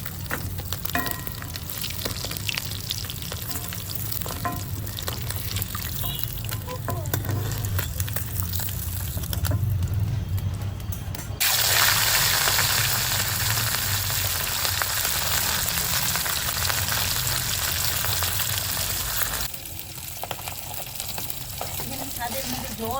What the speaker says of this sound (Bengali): মাছ ভাজা হয়ে গেছে, তুলে নেব